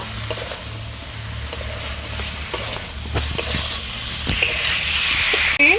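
Fried green banana and potato sizzle in a pan while a spatula scrapes and taps through them, the frying hiss building toward the end with no voices.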